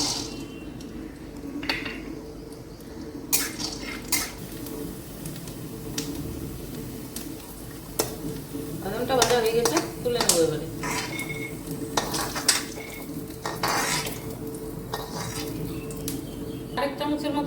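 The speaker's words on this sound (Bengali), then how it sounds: "এক চামচের মতো তেল দিলাম এখন কয়েকটা এই যে বাদাম এটা ভেজে নেবো" Peanuts frying in a spoonful of oil in a hot wok, with a low sizzle under repeated clinks and scrapes of a spoon stirring against metal, and birds and a voice faintly in the background.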